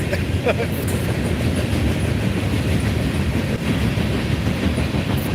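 A train rumbles steadily past close by in Ellisville, Mississippi, a dense continuous roar of wheels and carriages with faint rhythmic clatter throughout.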